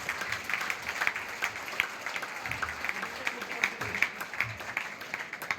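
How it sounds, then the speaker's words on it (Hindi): Village audience at an outdoor religious gathering clapping steadily in a dense, fairly faint patter, with a speaking voice and low crowd murmur running underneath. "ये ताली बजाने में कोई नुकसान नहीं है।"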